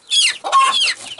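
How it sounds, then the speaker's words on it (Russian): Chickens being caught with a net at a small farm or petting zoo give off a burst of close, agitated clucking and squawking, two rapid flurries of calls within about a second, with no voices. "Так мы ловим цыплят."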